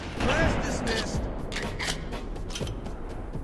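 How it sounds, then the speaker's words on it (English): Sniper rifle shot followed by a tactical magazine reload in the video game Halo Combat Evolved: a single loud report, then a few quick mechanical clicks and clacks, faintly under a talking voice. "when I fire one shot out of the magazine, he simply reloads the magazine"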